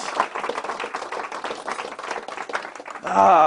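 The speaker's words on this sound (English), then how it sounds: "Let's have a big round of applause for Jesse and for John." Audience at a magic and escape artist stage show applauds two volunteers, brisk scattered clapping in the foreground, with a brief tonal sound rising at the very end.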